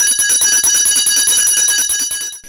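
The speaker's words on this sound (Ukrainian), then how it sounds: "Для випускників лунає останній дзвоник." The school's last bell for graduates at a ceremony in Vinnytsia rings loudly and continuously, a rapid metallic trill of strikes heard up close with no voices.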